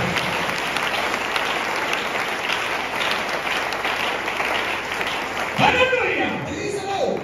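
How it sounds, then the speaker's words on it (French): A church congregation applauds loudly and continuously for several seconds, a dense crowd of clapping that stays steady, with voices mixed in toward the end. "on acclame pour la parole"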